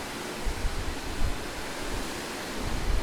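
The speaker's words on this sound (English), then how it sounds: "you see the water breaking right down there" Steady broadband rush of ocean water churning and breaking below a cruise ship, with wind buffeting the microphone in low rumbling gusts.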